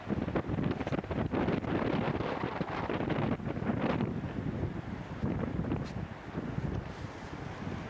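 Strong gusty wind on a rainy day buffets the microphone in a continuous roar, rising and easing in waves.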